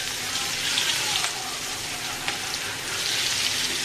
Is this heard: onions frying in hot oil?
yes